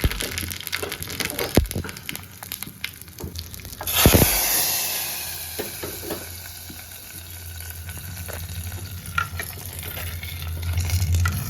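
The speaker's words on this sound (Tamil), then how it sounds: "இது கூட வந்து நான் கடுகு, சீரகம், காஞ்ச மிளகாய் போட்டு தாளிச்சுக்கிறேன்." Mustard seeds, cumin and dried chillies tempered in hot oil for a spinach kadayal, with light crackling and sizzle that flares into a loud burst midway, then settles into a softer frying hiss.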